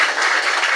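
Audience clapping at a Tamil stage event honoring a lyricist, a dense steady wash of applause without pauses, brief and fairly loud.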